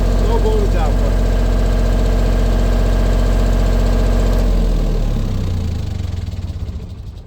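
A Miller Big Blue 400D welder's engine running steadily at a loud, close idle with a deep, rumbling drone, then dropping in pitch and fading as it winds down near the end. The welder has no voltage output.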